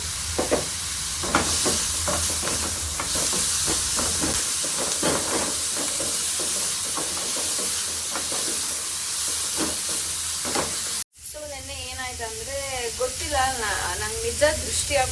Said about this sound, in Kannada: ಕಡಲೆಬೇಳೆ ಆ್ಯಂಡ್ ಕರಿಬೇವು ಆನಿಯನ್ಸ್ ಆ್ಯಂಡ್ ಚಿಲ್ಲಿ ಚೆನ್ನಾಗಿ ಚೆನ್ನಾಗಿ ಫ್ರೈ ಮಾಡ್ಕೊತಾ ಇದ್ದೀನಿ